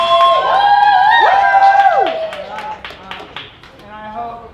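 Audience at a live poetry show cheering with high whoops and shouts over scattered claps, loud at first and tapering off into brief talk and a few lingering claps.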